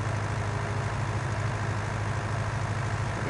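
A tractor engine idles in Farming Simulator 19, a constant low droning rumble that holds steady throughout with no voices over it.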